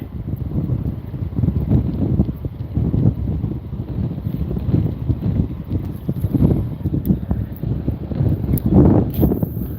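Steady gusty wind buffets the microphone on the Penobscot River in Maine while a fishing line is cast, a continuous low roar swelling and easing throughout with no talk.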